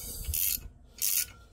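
Ratchet wrench loosening a bolt on a car, two short bursts of rapid clicking pawl strokes separated by a brief pause, heard close with no talking.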